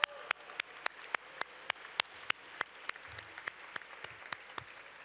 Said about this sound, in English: let's have a huge round of applause for steel pen player and scholar Christopher Antoine.